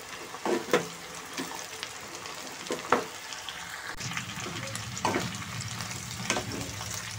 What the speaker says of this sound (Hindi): अब मैं इसके अंदर कटहल डाल दूँगी जिससे कि कटहल भी साथ ही भुन जाए।